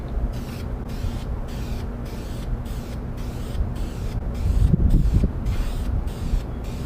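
Spray paint hissing onto the second side of hoodliner flags for a Camaro in rapid, regular bursts, close and fairly loud, with a slightly heavier stretch near the end and no one talking.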